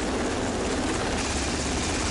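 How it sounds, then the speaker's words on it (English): Helicopter rotor and engine noise on a modern destroyer's landing pad, a loud, steady broadband roar with throbbing low-end beats throughout, with no voices over it. "The helicopter is a significant addition to the combat capabilities of a modern destroyer."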